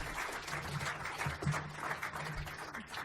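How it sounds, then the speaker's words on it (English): An audience at a same-sex marriage debate event applauds a panel, producing a steady, even wash of many hands clapping at moderate distance without any break. "Let's give them a round of applause."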